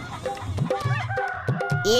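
A chicken clucks in short, repeated calls near a poultry pen, with people talking over and between the clucks.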